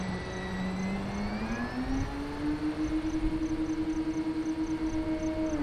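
An E-flite Carbon-Z Cub SS 2.1m RC plane flying on a 6200 battery pack: a steady electric motor whine that rises in pitch and then holds, alone and fairly faint, like a distant buzzing drone.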